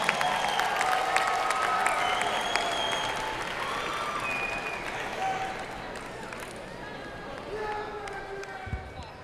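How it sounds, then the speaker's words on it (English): Sustained audience applause for 2017 Bachelor of Science in Real Estate Development graduates at a USC Price commencement ceremony: a dense, steady wash of clapping that fills the hall, with scattered whoops and murmuring voices mixed in. "let's give a warm round of applause to our 2017 graduates of the Bachelor of Science in Real Estate Development"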